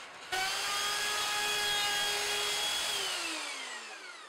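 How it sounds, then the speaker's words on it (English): A handheld router with a quarter inch round over bit shapes the neck of a cigar box guitar, giving a sudden close, high whining spin-up that holds steady, then winds down with falling pitch, without speech. "I'm going to try and use the freehand router with a quarter inch round over bit"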